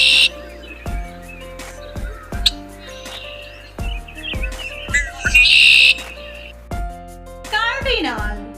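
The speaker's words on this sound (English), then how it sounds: "Red-winged blackbird sound name seared." A red-winged blackbird gives a series of sharp chirps and a buzzy trilled song, close and clear over steady, evenly spaced tonal pulses.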